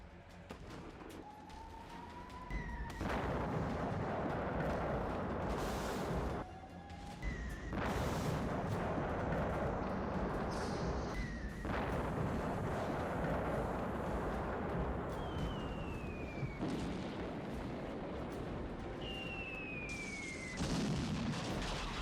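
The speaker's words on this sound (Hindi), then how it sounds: "यूक्रेन के प्रमुख शहर खार्किव पर लगातार मिसाइल हमले" Missile strikes and explosions in Kharkiv, Ukraine, where ballistic missiles are reported and buildings are destroyed: a loud, continuous roar with repeated heavy booms and rising and falling whistling tones, with no speech.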